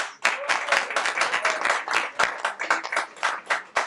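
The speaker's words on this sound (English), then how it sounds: "clap for the campaign boss lady, Eugénie Monpremier" A campaign kick-off crowd claps for a campaign organiser, many distinct claps at moderate loudness, rhythmic and close, clustering into quick bursts for nearly four seconds.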